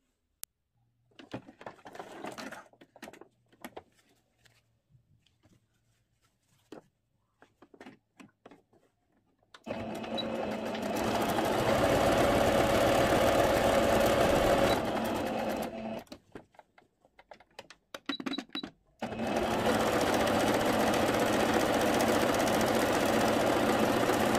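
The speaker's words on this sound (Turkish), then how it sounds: "bunun iki kenarını da dikiyorum. Aynı şekilde lastiğimi de dikiyorum." Sewing machine stitching the edges of viscose fabric and elastic for a skirt, two long steady runs of whirring motor separated by handling clicks and pauses, close and clear.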